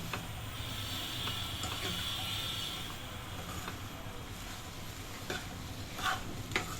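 Kurma masala ingredients roasting in a pan over a medium flame, a steady soft crackle and scrape of stirring that runs throughout at low level, with a few faint clicks near the end and no talking.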